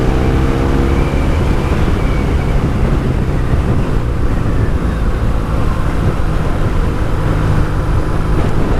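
A car overtaking a pickup truck on a European road between Sparta and Larissa, heard as steady close road and engine noise with continuous tyre rumble throughout.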